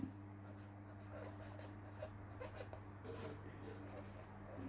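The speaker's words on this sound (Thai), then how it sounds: "เขียนให้ฝั่งนี้ก็แล้วกันนะครับ" Pen scratching on paper while lottery numbers are written out, short rapid strokes coming in uneven bursts over a steady low electrical hum, close and fairly quiet.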